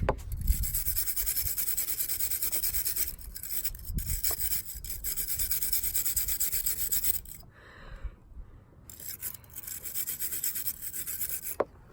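Paint is sanded off the body of a Pontiac Firebird car in a continuous raspy rubbing, close and steady, with brief pauses and shifts in stroke.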